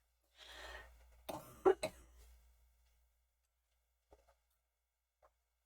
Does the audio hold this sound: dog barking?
no